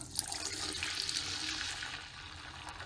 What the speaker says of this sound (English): now I'm going to pour it into my clogged sink